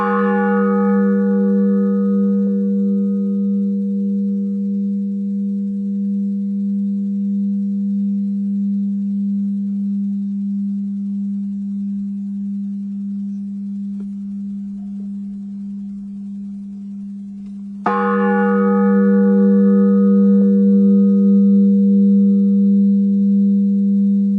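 A single deep bell tone hums and slowly fades for many seconds, then a second strike rings out loud and sustained, with no voices.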